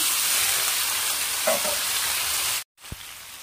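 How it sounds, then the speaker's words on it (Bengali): Vegetables and spinach stems hit hot oil in a pan, a loud continuous sizzle with a few stirring scrapes, then a brief abrupt gap before the frying resumes with a clack. "এবার ধীরে ধীরে সবজিগুলো দিয়ে দিলাম। সব সবজি একেবারে দিয়ে দেবো।"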